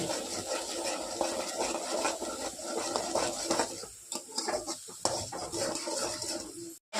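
Spiced bata fish jhal being sautéed with salt in a pan: steady, busy clatter and scraping of a utensil stirring against metal over a low sizzle, continuing for several seconds with no voices.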